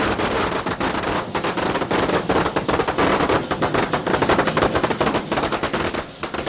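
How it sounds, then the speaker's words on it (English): Firecrackers exploding at a Chinese lion dance celebration in 1987, a dense, loud, continuous crackle of rapid overlapping bangs that runs unbroken for several seconds. "the noise and red colour of the crackers scare away evil spirits and bring to life the lions"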